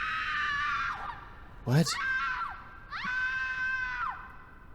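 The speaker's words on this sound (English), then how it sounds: "I hear screaming off in the distance." Shrill, drawn-out screams come from a horror video game. There are three long wailing cries, and a short spoken exclamation cuts in between them.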